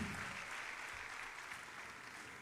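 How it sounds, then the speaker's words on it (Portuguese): Congregation applauding at a Brazilian church missions symposium, a steady broadband wash of clapping that holds evenly throughout, moderately distant and without clear individual claps. "Pode aplaudir mesmo"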